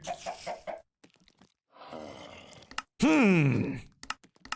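A chicken in the video game Minecraft, clucking in a few short calls amid game sounds, with a voice talking nearby at the start.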